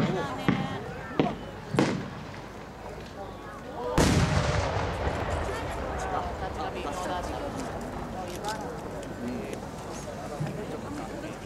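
No. 8 firework shells at a Japanese fireworks competition in Aizu: a few sharp launch thumps early, then a heavy close boom and a long rolling, crackling burst that slowly fades, with crowd noise underneath.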